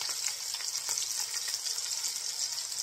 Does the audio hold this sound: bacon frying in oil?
yes